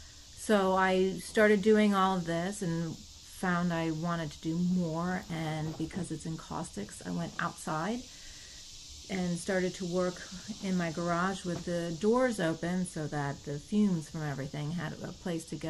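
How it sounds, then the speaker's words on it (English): Periodical 17-year-brood cicadas drone outdoors as a steady high-pitched buzz held faintly in the background under someone talking throughout. "You'll hear the cicadas in the background."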